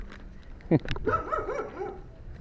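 A small dog gives a single sharp bark and a short yip outdoors, close by, while people talk over and around it.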